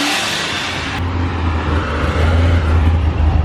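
Over 1000-horsepower Corvette Z06 engine accelerating hard, heard from inside the car as a loud, deep roaring drone that builds and swells steadily, with a rushing whoosh at the start.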